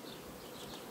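Honey bees buzz steadily on a hive frame holding worn-out old bees alongside young ones, a continuous, fairly faint drone with no voices.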